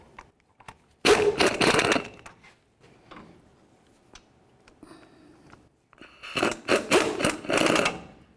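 Ratcheting and clattering bursts of wrench work as CV axle bolts on a 1999-2007 Chevy Silverado are snugged in a crisscross pattern, two loud spells of rapid clicking separated by a quieter stretch of light taps.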